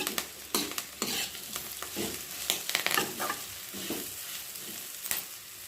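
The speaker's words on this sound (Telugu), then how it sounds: "చూసారా చక్కగా కాకరకాయ ఆరకాకరకాయ ముక్కలు చూసారా బాగా వేగేది" Pieces of bitter gourd sizzle steadily in a pan while a utensil scrapes and stirs them in repeated strokes, close and clear with no talking.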